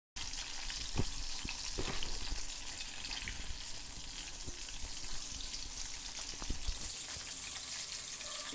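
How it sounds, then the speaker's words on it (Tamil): Chicken 65 pieces deep frying in hot oil, a dense, continuous bubbling sizzle that holds steady throughout, with a few faint clicks and pops scattered through it. "இது குக் ஆயிடுச்சான்னு பார்க்கணும்னா இந்த பபிள்ஸ் எல்லாமே அடங்கின பிறகு நீங்க எடுத்தீங்கன்னா இது குக் ஆயிடுச்சுன்னு அர்த்தம்"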